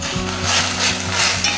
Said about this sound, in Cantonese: 落咗豬腩肉之後呢，佢就會開始煎到啲油出嚟啦。